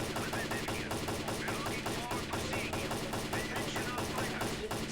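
Rapid gunfire from a firefight in the shooter game S.T.A.L.K.E.R.: Clear Sky, a dense, steady stream of automatic bursts and shots rattling continuously throughout, loud and close, with a faint voice underneath.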